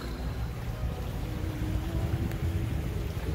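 A sailboat motoring under engine at night during a crossing from Menorca to Sardinia, its engine giving a steady, continuous low drone with a faint wash of wind and water over it.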